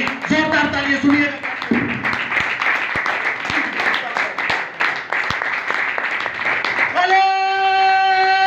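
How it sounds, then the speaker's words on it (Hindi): Loud, dense applause from a church congregation fills the space for about seven seconds, then gives way to sustained organ-like music tones. "ऐसे नहीं, जोरदार तालियां सुनिए"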